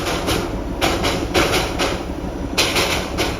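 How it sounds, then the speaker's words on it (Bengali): Darjeeling toy train pulling out of a hill station, heard nearby as rhythmic clattering wheel beats and rumbling carriages in a regular pattern, no talk. "আমাদের আগের যে ট্রেনটা ছিল, ওই ট্রেনটা ছাড়ছে"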